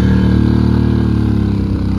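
A motorcycle on a road with its engine running close and loud, a steady, rumbling low drone that holds evenly throughout.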